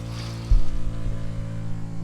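A water pump in a campervan kicks on with a low, steady electric hum and droning buzz, close and continuous after a brief thump at its start.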